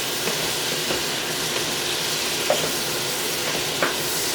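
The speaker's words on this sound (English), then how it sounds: "I just love the way veggies smell when you sauteing them." Vegetables and garlic sautéing in a pan for a chicken stir fry, a steady close sizzle with occasional soft stirring scrapes and small crackles rising above the frying hiss.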